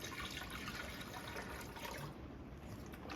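Orange juice, about 12 ounces, poured steadily into a blender for a watermelon smoothie, a continuous faint liquid rush close by with no talk.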